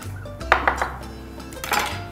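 A knife cuts a pomegranate in half on a kitchen board, giving a few close thunks and knocks on the surface with soft handling noise between them, and no talking.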